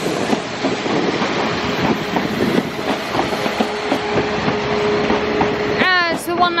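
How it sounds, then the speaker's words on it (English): Class 197 unit 197114 pulls out of Crewe station with a steady rumble and rhythmic wheel clatter over rail joints, a sustained tone running beneath, and a brief high squeal near the end. "So 197114 is departing now."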